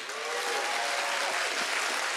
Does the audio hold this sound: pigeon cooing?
no